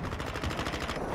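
Rapid automatic gunfire from Call of Duty multiplayer on PS5, a dense unbroken burst of loud shots filling the whole moment.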